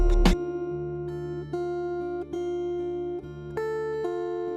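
A sampled guitar from the Native Instruments Zona Ritmo kit plays sustained, bright tonal notes changing pitch every second or so, dry and without effects, alone and unaccompanied.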